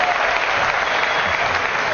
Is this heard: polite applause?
yes